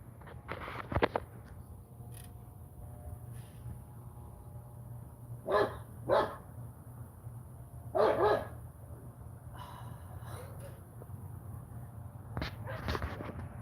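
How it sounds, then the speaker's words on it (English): Dog barking somewhere nearby outdoors, scattered short barks in small clusters across the stretch, moderately distant and fairly faint over a steady low background hum. "I think that is the dog that's behind us."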